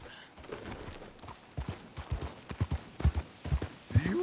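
Horse hooves clip-clopping in a Red Dead Redemption 2 game, a steady walking rhythm of clear hoofbeats that starts soft, then grows more distinct and regular, with brief faint voices near the end.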